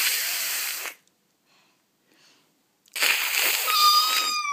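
A child imitating an angry kitten, giving two loud breathy hisses about two seconds apart, the second ending in a squeaky rising tone, with near silence between them.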